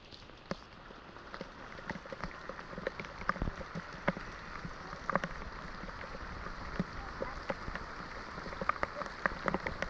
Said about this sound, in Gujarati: જોવો આજનો વરસાદ કેવો છે